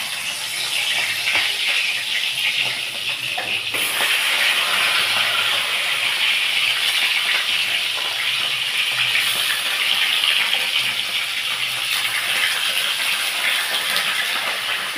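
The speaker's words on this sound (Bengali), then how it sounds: "এইবার আমি এর মধ্যে মাছের মাথাগুলো ছেড়ে দেবো।" Fish heads frying in hot oil, a loud continuous sizzle and hiss close by that holds steady throughout, with no talk.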